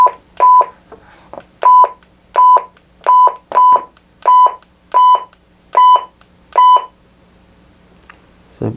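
A Leixen VV-898 dual band radio sounds nine loud, bright two-tone beeps in a steady rhythm, each short burst clear and close, with a faint hum beneath and a soft click at the end.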